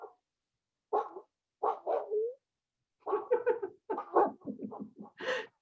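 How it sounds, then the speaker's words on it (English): A small dog barks in several short bursts over a live FaceTime call, close but thin-sounding, with breathy whimpers between the barks. "I wonder if we could do a live FaceTime dog bark for her."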